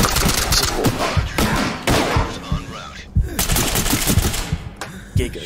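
Rapid bursts of video game gunfire in an indoor match, the shots punching through brick and tile, crackling close and loud in dense volleys with heavy thuds, while a voice talks over it now and then.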